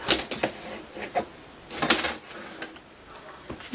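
Paper being cut to make a happy mail envelope, heard as a few sharp, crisp snips and rustles close up in short bursts, with no one speaking.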